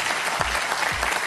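Television game-show studio audience applauding, a short burst of steady clapping with two low thumps breaking through the wash.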